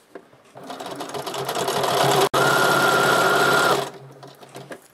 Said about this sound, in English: And then we're just going to sew.